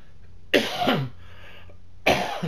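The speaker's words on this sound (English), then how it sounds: "Pardon my coughing." Two bursts of coughing, close and fairly loud, the first a double cough, then a pause before another cough.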